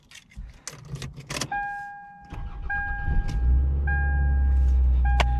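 A 2001 Toyota Camry engine is cold-started from inside the car after a jingle of keys and warning chimes, with a short crank settling into a steady low idle hum close by, and no talking.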